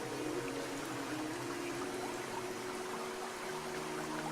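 River water rushes steadily through a cave in the game Dear Esther, a continuous soft, broad wash of flowing water with no breaks and no voices.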